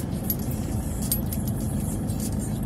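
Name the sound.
road traffic in Baguio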